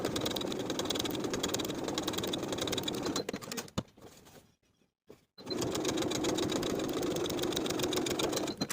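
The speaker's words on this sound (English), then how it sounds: "we're going to edge stitch the remainder of this seam toward the neckline on both sides" A sewing machine edge stitches a garment seam toward the neckline, running in a fast, steady, close mechanical rattle that pauses briefly midway and then resumes at the same pace.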